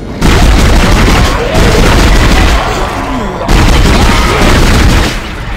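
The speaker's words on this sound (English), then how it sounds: "And they exploded at the same time." Two loud, heavy booming explosions in the video game Dead Space, each a sustained roaring blast lasting over a second, one after another with a short gap between.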